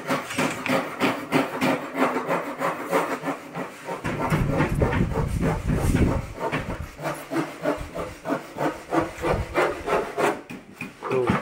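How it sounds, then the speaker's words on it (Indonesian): A wooden drawer on a study desk, model MBRB 120, pushed along its drawer rails during assembly: repeated rubbing and sliding strokes, close and fairly loud, with a longer hissing slide in the middle and no talking. "dimasukkan rel laci tadi ya"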